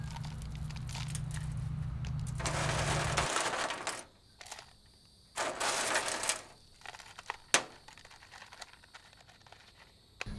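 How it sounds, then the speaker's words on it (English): Pea gravel and coarse rocks poured into a homemade charcoal and sand water filter, making loud gritty crunching and rattling bursts with short pauses between pours, then scattered clacks of stones settling. "Now comes our pea gravel, and on top of that, our coarse rocks."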